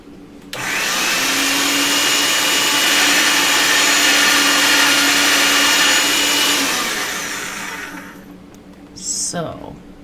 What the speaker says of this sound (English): let's get it through the pasta machine